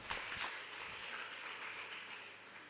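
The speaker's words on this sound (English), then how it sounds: "Please clap for her." Audience applause at an Edo State NCCF chapter gathering, a dense wash of many hands clapping at once, steady and fairly faint, with no voices over it.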